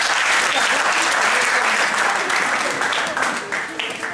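Church audience applauding its pastors: loud, dense clapping from a crowd that holds steady, then thins slightly toward the end, heard up close.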